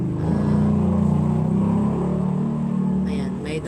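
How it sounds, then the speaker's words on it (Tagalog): A motorcycle passing behind someone recording indoors, a loud low engine drone that rises and then fades. A voice speaks underneath it. "Ayan, may dumaang motor."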